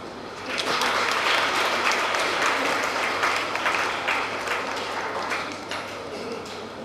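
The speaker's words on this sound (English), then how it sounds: "Give them a big round of applause." Hands clap for top SSLC, PUC and degree students receiving awards at an educational institution's felicitation ceremony. Brisk applause from a crowd rises quickly, holds strong for several seconds, then gradually thins out.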